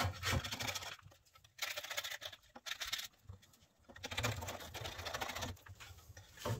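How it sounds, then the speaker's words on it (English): A paint scraper scrapes wax off the rails of a beehive frame in short, rough bursts of scratching, close and fairly faint, separated by brief pauses. "Got this paint scraper here. And I'm just going down through, kind of hitting the rails."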